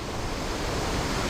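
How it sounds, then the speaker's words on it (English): Rushing water of a waterfall at Springbrook: a dense, unbroken roar of falling water, loud and close throughout with no voices. "We found another waterfall!"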